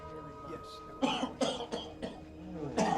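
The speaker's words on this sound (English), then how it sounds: "Starts with a cough." Several sharp coughs in quick succession, close and fairly loud, following a brief murmur of voice.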